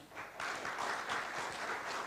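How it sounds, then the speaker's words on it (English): A conference audience at the opening of a G20 Indonesia event applauds, with a short burst of even, moderately loud clapping filling a hall. "we give a round of applause"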